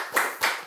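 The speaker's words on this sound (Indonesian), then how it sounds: "Mari kita tepuk tangan dulu." Three separate hand claps ring out close by at a slow, even pace during a discussion event at a student organisation congress.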